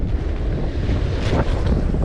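Strong sea wind roars steadily across the microphone while waves surge at a river mouth, a loud, dense rush with no voices.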